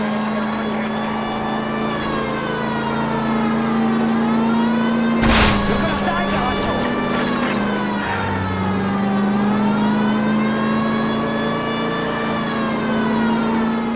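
Car engine droning and rising under acceleration during a chase in L.A. Noire, loud and continuous with a sharp crash midway and shifting pitch as the car speeds on.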